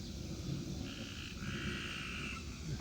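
A dense chorus of tree frogs croaks and trills continuously at a distance, with a few higher-pitched calls rising above the steady background.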